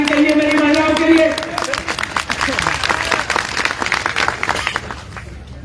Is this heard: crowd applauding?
yes